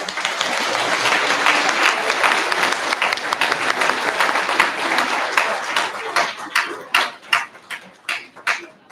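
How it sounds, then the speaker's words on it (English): Audience at a school board meeting applauds students being recognized, a dense sustained wash of clapping that thins toward the end into a few distinct, louder individual claps. "We give them a round of applause."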